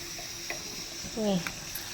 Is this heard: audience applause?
no